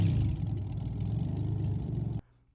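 A Pontiac Fiero with a swapped 3800 V6 and a header-dumped exhaust gives a deep, loping rumble at idle, loud and close, before cutting off abruptly near the end.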